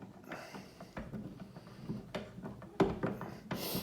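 A hand screwdriver turns and clicks while screws are tightened on an electrical outlet, producing irregular close scraping, ratcheting and small metallic knocks with brief pauses.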